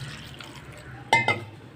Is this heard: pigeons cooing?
no